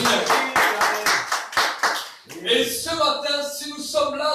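A congregation in church worship claps in a brisk, steady rhythm, loud and near, before the clapping gives way to singing voices with music.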